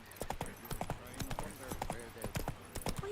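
Roach the horse's hooves clip-clop steadily in The Witcher 3, a brisk rhythmic run of close, clear hoofbeats, with a faint whinny-like tone near the end.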